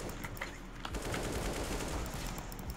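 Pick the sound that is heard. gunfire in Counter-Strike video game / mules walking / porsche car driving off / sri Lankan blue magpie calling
gunfire in Counter-Strike video game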